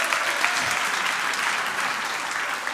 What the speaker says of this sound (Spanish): un aplauso para Milton